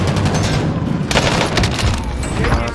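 Dense, loud rapid gunfire in a Call of Duty Warzone match, bursts of automatic shots layered over booming reports, continuous and close with no pauses.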